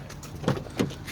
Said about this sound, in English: Unlock the car.